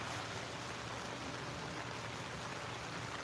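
Rain falls on an outdoor swimming pool as a constant, even hiss of droplets, quiet and unbroken throughout, with no voices.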